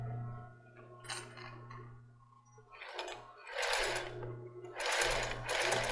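A sewing machine stitches lace for a bra in several short, rattling bursts separated by pauses, fairly close and moderately loud.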